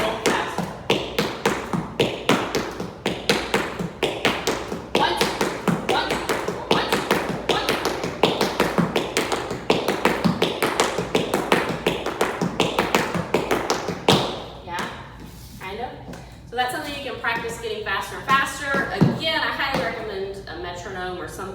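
Tap shoes doing paddle and roll steps make rapid, close, rhythmic metallic taps in a steady run, with a looser, more varied patter near the end.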